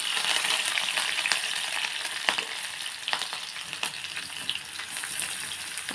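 Chopped chillies, green chillies and curry leaves fry in a pan with a bit of chana dal, a dense, continuous crackling sizzle with sharp pops and spits, close and loud, without speech.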